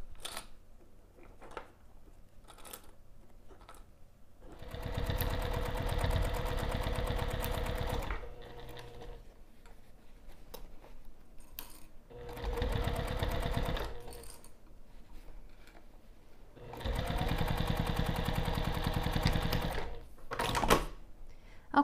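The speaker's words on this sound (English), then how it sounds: "we're gonna take this over to the sewing machine and sew the pinned edge" A sewing machine stitches the pinned edge of fabric binding in three bursts of steady rapid whirring, separated by quieter pauses with handling noises.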